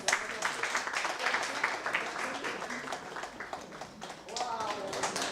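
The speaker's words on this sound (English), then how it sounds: "Let's all applaud." A small crowd at a book launch applauds, a steady patter of hand claps under lively voices and chatter, swelling again near the end.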